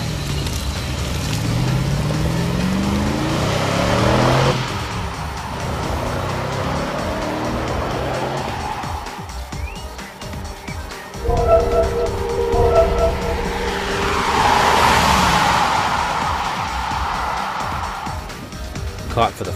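A BMW 6 Series prototype runs on the Nürburgring circuit, engine notes rising and falling as it accelerates past and fades, with further passes; a narrator's voice talks over it throughout.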